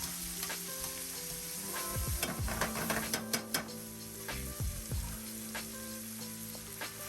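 Shrimp fry in a hot pan for a creamy garlic shrimp dish, a close, continuous crackling sizzle with scattered pops and a few scraping stirs or flips partway through, with no talking.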